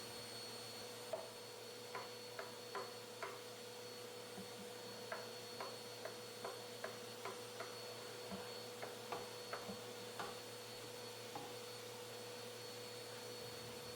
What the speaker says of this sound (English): I just grab my vacuum and the hose attachment and just suck up all that excess sanding